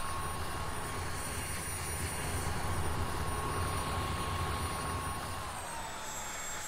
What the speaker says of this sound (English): I didn't really need the helicopter. I just like flying it.